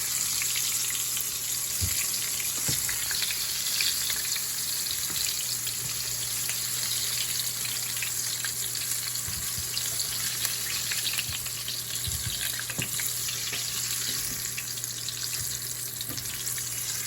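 Medium shrimp, about 21 to 25 per pound, deep frying in a pot of hot oil, a steady dense bubbling sizzle that holds loud and even throughout, with occasional faint knocks and no talking.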